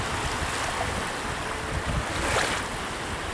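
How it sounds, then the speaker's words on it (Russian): Fresh wind blows steadily on the Gulf of Riga seaside in May, a loud, continuous rush of wind noise mixed with surf. "Свежий ветер."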